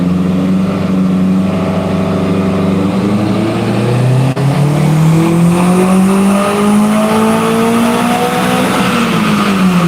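A car engine held at full throttle on a dyno roars loudly and continuously, its pitch climbing steadily through the rev range before falling off at the very end.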